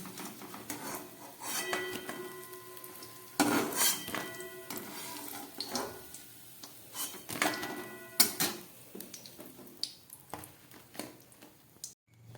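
Fried koftas of pointed gourd and mixed vegetables are lifted out of a pan of hot oil: quiet, irregular metallic clinks, taps and scrapes of a utensil against the pan, with soft frying in between and no talk.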